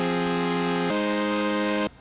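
Bright, dense supersaw synth chord with the third raised an octave, sustained alone at moderate loudness; the voicing shifts once partway through before the chord cuts off abruptly.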